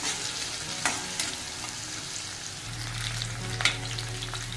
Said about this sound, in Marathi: याला मस्त असं फ्राय होऊन द्यायचं आपल्याला छान